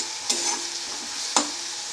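Softened onions sizzle in a pan with a bright steady hiss, while two sharp scraping stirs of a spoon cut through, close and without voices.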